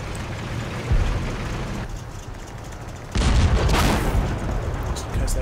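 Rounds fired in the World War II game Combat Mission Battle for Normandy, a few muffled booms over a steady low rumble.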